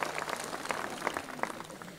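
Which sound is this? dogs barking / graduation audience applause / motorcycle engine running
graduation audience applause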